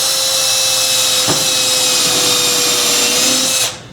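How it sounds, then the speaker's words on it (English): A power drill whines steadily at close range, a sharp knock partway through, before the motor cuts off near the end. "And we'll drill a hole here."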